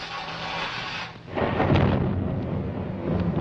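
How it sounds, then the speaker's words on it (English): Thunder from a storm rolling in over a mountainside rumbles low and heavy, swelling into a long loud roll after a brief lull, with a steady wash of rain or wind beneath it. "That storm's coming back."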